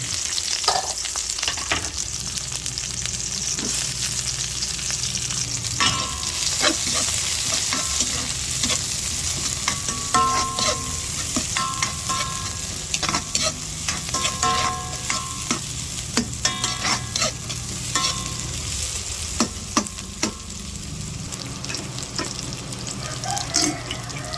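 Onions sautéing in a pan with garlic for chicken adobo, a steady close sizzle with frequent scraping and clattering of a utensil stirring, continuous and fairly loud, with no voices.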